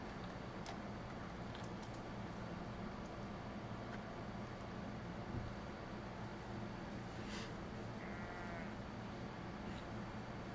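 Sheep bleat in the Foundation medieval city-building game, with a few faint calls over a low, steady ambient bed.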